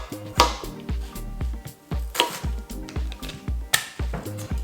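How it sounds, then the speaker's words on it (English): A knife chops half an onion into wedges on a cutting board, a steady run of close, sharp taps and thuds with a brief pause between strokes, while gentle music plays underneath. "we're gonna cut up a half of an onion. And we just want this to be in wedges"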